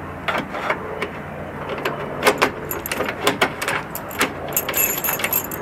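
A small key handled in a newly fitted door lock, giving a series of close, light metallic jingles and clicks in an irregular rhythm, with a few brighter taps toward the end.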